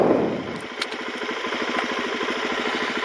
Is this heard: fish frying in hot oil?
no